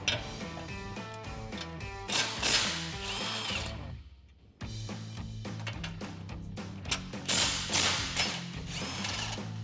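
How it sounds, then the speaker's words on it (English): An impact wrench fitted with a 21mm socket spins out bumper bolts on the passenger side of a Jeep Wrangler JL, whirring in two sustained bursts split by a short silent gap. "I'm going to use a 21mm socket in my impact to remove these two bolts on the passenger side"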